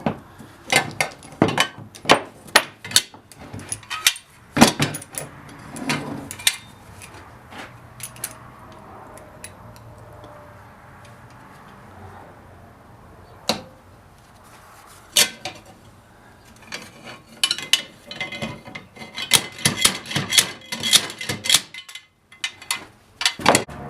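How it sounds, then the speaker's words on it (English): Metal-on-metal impacts of a homemade slide hammer pulling a nail from a wooden picture frame piece, sharp clanks in quick bursts separated by quieter pauses, with a heavier cluster near the end. "I'm going to have to use my slide hammer that I made and take this nail out"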